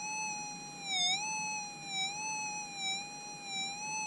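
Minelab SDC 2300 metal detector sounds a soft, steady electronic tone over a 4 gram gold nugget, a sustained pitched whine that wavers gently up and down, faint and alone.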